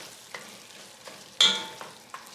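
Ground beef is mixed in a hot pan under a soft sizzle, with a few brief scraping strokes of a utensil and one sharper clack partway through, close and fairly quiet.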